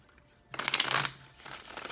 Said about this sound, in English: One more shuffle and we'll get started.